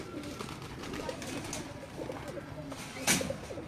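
Pigeons coo steadily on a rooftop loft, soft layered calls running throughout with a brief louder burst near the end, faint background voices underneath.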